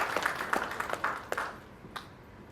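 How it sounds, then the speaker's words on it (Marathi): Brief, sparse clapping from a small audience at a Marathi film trailer launch, a handful of scattered claps that quickly fade out. "एकदा जोरदार टाळ्या होऊन जाऊ देत या संपूर्ण चित्रपटाच्या टीमसाठी"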